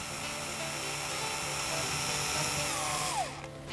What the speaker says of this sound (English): So we just drill the pilot hole through here. So this is straight into the aluminium panel.